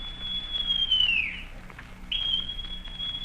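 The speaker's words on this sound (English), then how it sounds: "Then Silver brought out a whistle." A thin, steady high whistle tone sustains, dips and breaks off, then resumes and holds, over a low background rumble, in a radio drama of Treasure Island.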